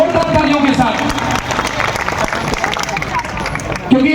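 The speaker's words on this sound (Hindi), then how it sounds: "इनका जोरदार तालियों के साथ इनका स्वागत करिए साथियों, जोरदार तालियों के साथ" A crowd at a Congress party gathering in Mumbai applauds to welcome a speaker, with dense, continuous clapping mixed with babble and a voice talking loudly over it.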